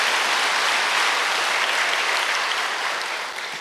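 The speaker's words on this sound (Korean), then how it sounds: "큰 감사의 박수를 올려주시면 고맙겠습니다" Applause of thanks from the congregation at a church memorial service, a thick, even wash of many hands clapping for a few seconds, loud and sustained before easing slightly at the end.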